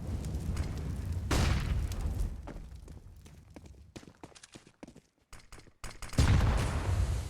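Grenade explosions in Counter-Strike on the Inferno map during an academy league match: loud broadband booms at the start and end, with scattered bursts and clicks between, under faint commentary.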